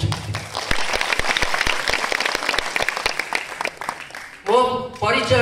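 Loud applause fills a hall after an Odia-language literary talk, dense continuous clapping for over four seconds, briefly broken near the end by a voice before the clapping swells back.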